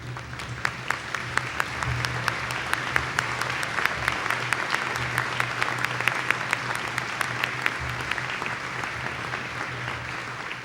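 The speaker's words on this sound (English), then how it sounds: "join me by honoring them with your applause" Audience at a university commencement ceremony applauds faculty and emeritus professors, a steady, moderately loud wash of many hands with a few sharper individual claps standing out.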